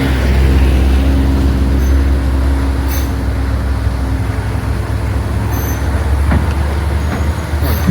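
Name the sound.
car driving on mountain road in Laos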